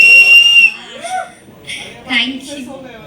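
A single sharp whistle rings out at a film trailer launch event, followed by scattered voices and faint chatter from the crowd.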